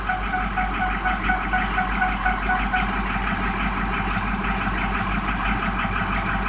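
A car engine idles in a steady, close, low rumble with a faint rhythmic unevenness, running continuously with no speech.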